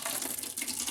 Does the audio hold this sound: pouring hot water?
yes